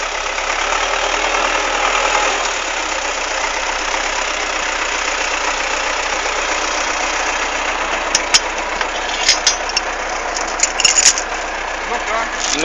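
A T-40 tractor engine runs steadily and loud throughout while being driven, with a constant mid-range drone, a few sharp clicks and knocks near the end, and people talking over it.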